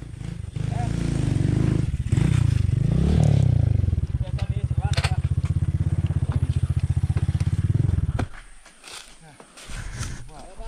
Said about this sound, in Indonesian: Ini motornya